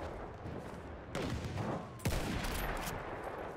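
Gunfire in the World War I shooter Battlefield 1 with a Russian 1895 rifle, two sharp loud shots about a second apart over a dense, noisy battlefield din.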